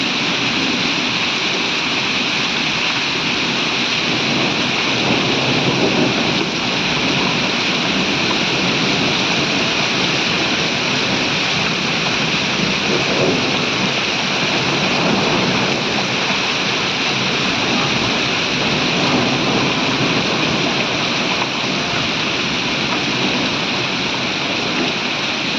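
Heavy rain with hail falls in a constant, loud, broadband roar that holds steady throughout, with no voices and no clear thunderclap.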